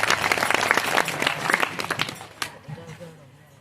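Devotees at a religious gathering for saint Karshanram Maharaj clap in a dense, lively burst that thins into scattered claps and fades toward the end, with a voice or two heard faintly underneath.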